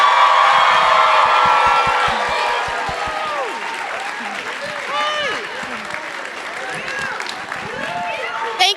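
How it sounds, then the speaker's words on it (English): Award-show audience clapping and cheering for a sitcom's writers, loud sustained applause with whoops and shouts that gradually settles while the noise continues. "Let's give them a clap."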